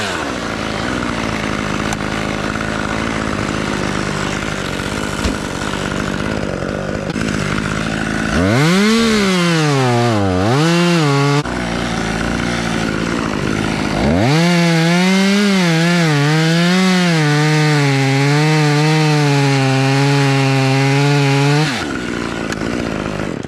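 A chainsaw cuts through an elm tree above a driveway, idling at first and then twice revving hard into long, loud bites through the wood, with the engine pitch sagging and recovering under load.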